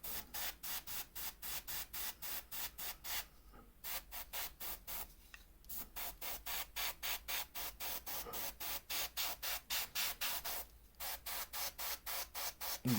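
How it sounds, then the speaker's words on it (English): Short bursts from a spray can or airbrush coat a plastic monster truck model with primer, hissing in steady repeated pulses close by, with a few brief pauses. "And you see the layers getting darker and darker the more we spray on her."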